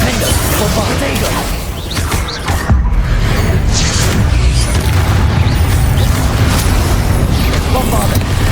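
A Bombarda blasting spell detonates in Hogwarts Legacy, part of a loud, dense barrage of booming spell impacts and crashing debris that continues through the whole stretch, with a brief dip before the rumble swells back.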